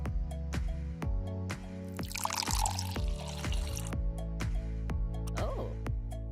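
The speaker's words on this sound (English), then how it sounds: "I can fill a jug with crystal clear water." Water pours and splashes into a jug outdoors on a hike, with a burst of gurgling fill in the middle amid a regular series of sharp drips or taps.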